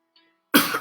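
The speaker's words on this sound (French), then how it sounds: "Excusez-moi, je tousse un peu parce que j'ai pris un petit..." A single sharp, close cough from a man at a morning sermon breaks out after near silence and trails off into a rough throaty rasp.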